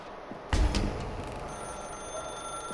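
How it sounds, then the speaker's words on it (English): Telephone ringing in the video game The Stanley Parable: Ultra Deluxe, a single loud burst of ring tone with some faint ringing continuing after, no voices. "Now pick up the phone."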